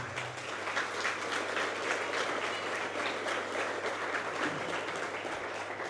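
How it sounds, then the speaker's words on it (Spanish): A congregation at a Catholic Mass applauds a couple celebrating birthdays, a continuous round of clapping lasting several seconds over a low steady hum. "Vamos a ofrecerle un fuerte aplauso a ellos."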